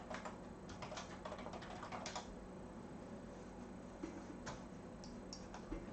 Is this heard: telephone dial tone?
no